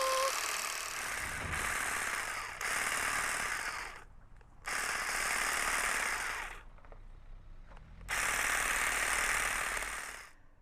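A hedge trimmer cutting a thuja spiral along a guide string: a buzzing motor roars in several long bursts of a second or two each, broken by short quiet pauses, close and loud throughout.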